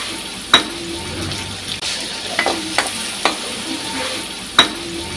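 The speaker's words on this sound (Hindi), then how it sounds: "अब इसमें मैं लहसुन और अदरक का पेस्ट डाल रही हूँ और साथ हरी मिर्च डाल रही हूँ।" Garlic-ginger paste and green chilli frying in a pan for Sahrai chicken, with a steady sizzle under a few sharp clinks of a utensil stirring against the pot; no one speaks.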